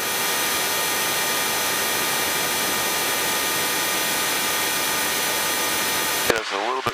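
Steady, loud drone of a small airplane engine in flight fills the cabin continuously before cutting off abruptly near the end.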